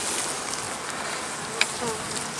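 Honeybees in an opened hive give off a dense, steady buzzing close by, a continuous hum with one brief tap partway through.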